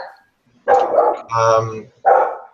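A dog indoors during a teleseminar gives a few short, close barks and a whiny yelp in quick succession, separated by brief pauses.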